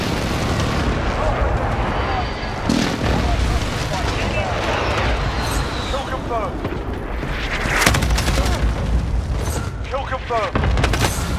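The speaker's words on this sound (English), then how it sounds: "Be advised, friendly position airstrike inbound." Airstrike explosions boom and rumble in a military shooter game, heavy blasts layered with gunfire and chaotic battle noise throughout, mixed with game voice callouts.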